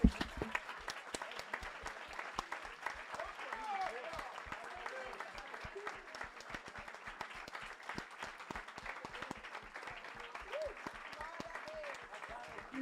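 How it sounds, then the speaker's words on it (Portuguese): A church congregation applauds loudly and steadily during a worship service, dense rapid clapping filling the room, with voices murmuring underneath throughout. "Quem está feliz com Jesus, fica de pé e dá uma salva de palma bem forte"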